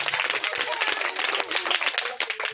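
Children clapping at a children's Bible school Christmas celebration, a scattered, uneven patter of small hands filling the room, with voices audible over it.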